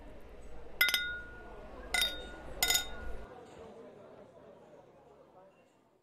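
Three glasses clink together in a toast at a restaurant table, producing sharp, close, bright chinks about a second apart, with soft voices and room murmur underneath.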